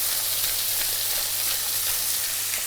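A beef hanger steak sears in a hot pan, giving a dense, steady hiss of sizzling fat at close range with no pauses and no voices, over a faint low hum.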